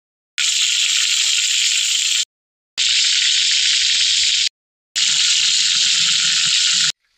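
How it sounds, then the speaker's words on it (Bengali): Chicken leg pieces fry in hot oil, giving a steady, bright sizzle in three separate bursts of about two seconds each, with short silent breaks between them. "তেলটা আমার গরম হয়ে গেছে, এবার আমি লেগ পিস গুলা ভেজে নেবো"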